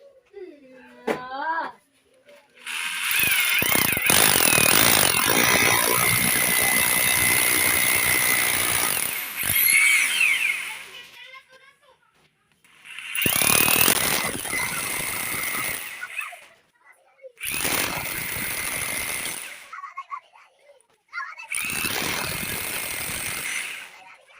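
Electric drill fitted with a chuck adapter and a masonry bit boring into stone, roaring loudly in several long bursts separated by pauses, with a brief spoken comment at the start.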